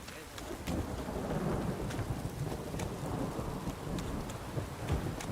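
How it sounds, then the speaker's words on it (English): Steady rain with rolling thunder in The Witcher 3 video game, a continuous dense downpour with low rumbles swelling beneath it and no talk over it. "向こうの方雷になってた"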